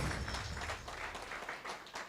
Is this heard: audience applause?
yes